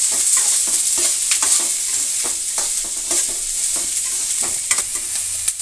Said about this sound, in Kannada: ಈಗ ಈರುಳ್ಳಿ ಚೆನ್ನಾಗಿ ಒಂದು ಸ್ವಲ್ಪ ಫ್ರೈ ಆಗಲಿ